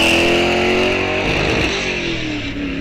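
A Mustang muscle car roars down a drag strip at full throttle, loud and close; the engine note drops abruptly mid-run as a gear shift is missed, then the revs climb again.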